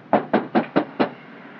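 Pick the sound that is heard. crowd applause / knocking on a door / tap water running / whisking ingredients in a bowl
knocking on a door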